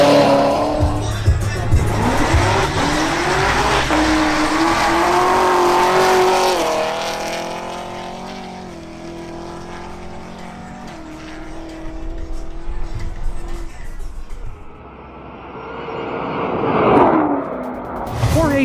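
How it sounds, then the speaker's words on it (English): A Chevrolet Camaro ZL1 makes a drag racing run, its engine roaring loud and close as it accelerates hard through the gears, then fading briefly before surging again near the end, with no talk. "Next up is Jorge Tamayo in his Chevrolet Camaro ZL1."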